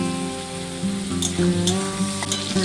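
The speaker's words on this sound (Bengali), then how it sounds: "পেঁয়াজের সাথে মাছটাকে একটু ভেজে নেব" Fish and onion frying in oil with a steady, close sizzle, punctuated by a few louder bursts of spattering and stirring clatter partway through; no one speaks.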